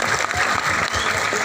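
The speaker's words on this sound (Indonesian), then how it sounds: "Tepuk tangan dulu." Applause from an audience at a lively Islamic sermon, dense steady clapping throughout, loud and close, with faint voices mixed in.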